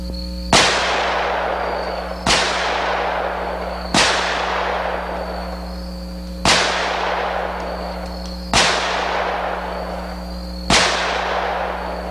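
A Smith & Wesson revolver chambered in 460 Rowland fires six loud, sharp shots at a target a few yards away outdoors. Each crack is followed by a decaying echo, and the shots come roughly two seconds apart.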